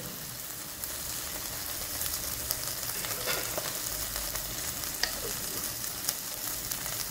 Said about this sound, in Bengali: জিঞ্জার গার্লিক পেস্টটা দিয়ে ভালো করে নাড়িয়ে নিয়ে